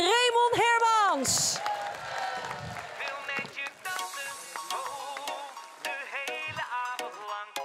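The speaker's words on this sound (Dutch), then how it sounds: "geef ze een groot applaus" Studio audience applauding and cheering for two singers on a Dutch music television show, a dense crowd roar with whoops, starting right after a sung phrase and continuing under a host's talk.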